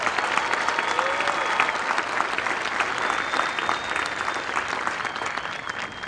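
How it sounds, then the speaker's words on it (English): A large crowd in the stands at an Air Force basic military training graduation ceremony applauds steadily, with a dense, sustained roar of clapping and occasional whistles. "Please give them a round of applause for their hard work."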